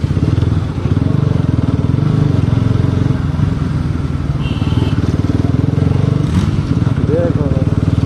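A motorcycle engine rumbles loudly and steadily with constant exhaust noise at a street gathering of sport bikes, close up, while people talk over it throughout.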